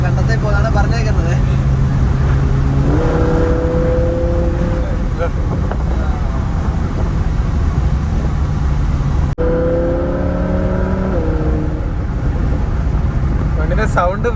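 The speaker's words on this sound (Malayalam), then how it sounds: "വണ്ടിന്റെ സൗണ്ട് വീഡിയോയിൽ കിട്ടുന്നുണ്ടോന്ന് അറിയില്ല" A supercar driven on a road in Canada revs up twice with rising engine tones over constant road and wind noise, while people talk inside the cabin.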